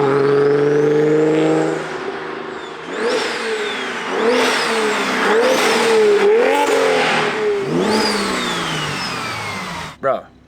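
A 700 HP BMW N54 car engine revs and accelerates through several rising pulls, loud and close from inside the car, with gear changes between sweeps and a sharp burst near the end.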